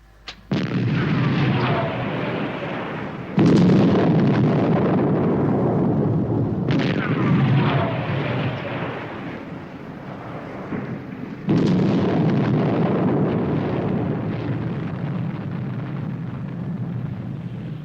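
Atomic charges blast in a vintage 1964 TV series sound effect: four heavy, booming explosions a few seconds apart, each loud and close with a long rumbling decay.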